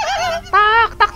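Chicken call in the dinosaur survival game The Isle: a honking, fowl-like cluck repeated in three quick bursts, close and fairly loud, with no talking over it.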